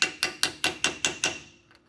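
Seven evenly spaced, sharp metallic hammer taps drive a new axle seal into place on a 1964 Ford Country Squire, each ringing briefly before the next, close and clear with no talking.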